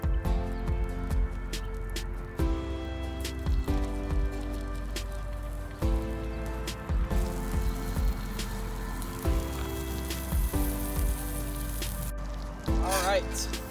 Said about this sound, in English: Toss it right in this hot butter.